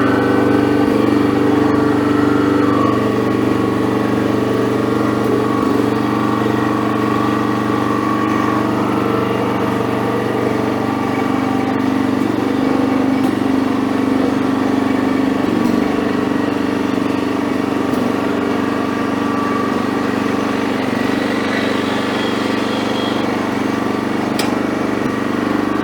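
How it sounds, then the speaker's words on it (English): A Honda hydrostatic-drive snow blower engine runs steadily while the machine is driven, a loud continuous mid-pitched drone with no pauses and no voices. "So right now I'm just going to drive it up."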